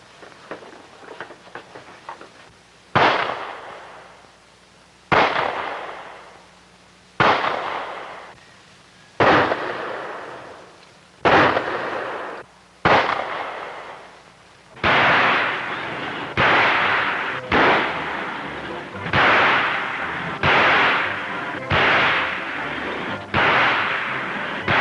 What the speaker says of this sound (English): 16 shots and 16 hits.